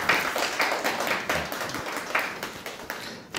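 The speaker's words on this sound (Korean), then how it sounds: "박수로 맞아주시기 바랍니다." A small audience at a film screening in a media centre claps to welcome the director, with scattered, uneven hand claps at moderate volume that thin out toward the end.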